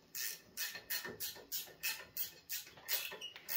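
A small gear wrench ratchets in quick, even strokes while tightening a bolt on a low-rise car lift, each pass a close, crisp burst of clicking, repeated about seven times in a steady rhythm.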